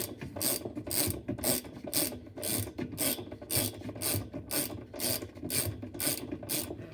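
Loosening the agitator bolt on a Kenmore 500 washing machine, a steady run of close, rapid ratcheting clicks from a socket wrench repeating in quick even bursts, with no talking.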